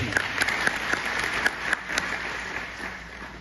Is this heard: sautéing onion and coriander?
no